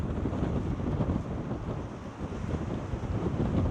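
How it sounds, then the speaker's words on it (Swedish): Strong wind in Denmark roars and buffets continuously, a dense rumbling rush with gusty swells, loud and close, with no voices. "Det blåser friska vindar."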